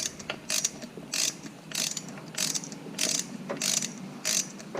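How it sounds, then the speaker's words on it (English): A ratchet wrench tightens the thermostat housing bolts on a 1986 IROC-Z to 18 foot-pounds, making repeated bursts of quick clicking strokes, close and fairly quiet with no talk. "I'm going to tighten these up to 18 foot-pounds."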